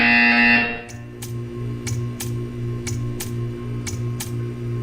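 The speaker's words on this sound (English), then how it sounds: "You will hear a buzzer." In the video game Portal 2, a loud buzzing tone sounds briefly at the start and cuts off, followed by a steady mechanical hum and a regular series of sharp ticks.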